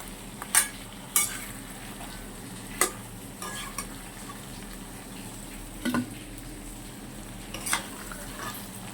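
Chicken kosha curry simmering in a pan after gravy is added, a soft steady bubbling bed broken by a few sharp scrapes and knocks of a stirring spoon against the pot.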